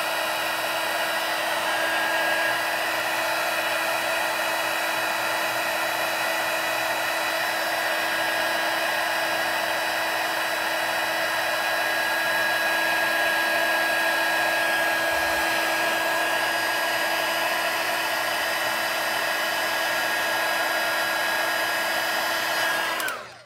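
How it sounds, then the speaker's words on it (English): A heat tool set on high blows a loud, steady whir for over twenty seconds while melting white embossing powder, cutting off abruptly at the end. "So we're going to hit that on high with our heat tool."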